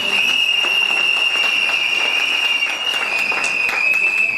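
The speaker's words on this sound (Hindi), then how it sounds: "नेगी सर के लिए जोरदार तालियां हो जाएं।" Vigorous applause for a speaker at a recognition program at LDP Ramnagar. Dense, continuous clapping fills the hall at a steady level, accompanied by a persistent high whistling tone, like sound-system feedback, running underneath the whole time.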